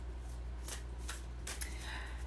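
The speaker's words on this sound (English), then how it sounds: "I am shuffling the Tell Me the Story cards" Tell Me the Story oracle cards being shuffled in several quick riffling bursts, close and fairly soft, over a steady low hum with no talking.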